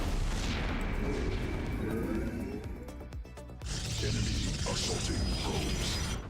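Units attack a photon cannon in a StarCraft 2 match: rapid mechanical firing and impact bursts, loud and continuous, with a brief lull in the middle before the fire resumes.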